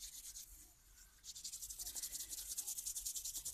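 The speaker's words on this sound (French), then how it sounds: "Je frotte mes mains" Two hands rub briskly together to warm up, a close, dry, rhythmic swishing that starts softly and grows into steady repeated strokes.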